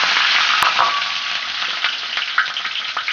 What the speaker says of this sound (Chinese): 下锅炒姜